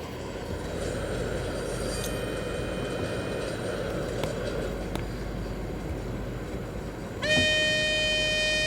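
Steady rumbling of a running train in a video game, a continuous rolling noise, then a sharp horn blast sounds near the end.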